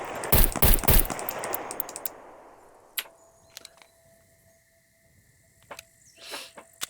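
A gun firing in a video game: a quick cluster of loud, sharp shots up front, then fading tail and a few sparse clicks and taps in near-quiet.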